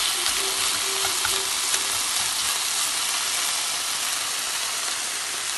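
Onion frying in a pan while a Japanese dish is cooked, a steady close hiss and sizzle running evenly throughout with faint clinks.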